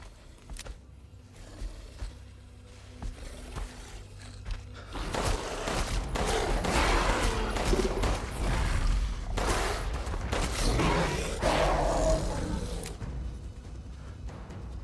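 Rapid gunfire echoes through a fight with a Crystal Beast in Resident Evil Village: sparse shots at first, then a dense, loud barrage of overlapping bursts with a creature's growls underneath, no talking.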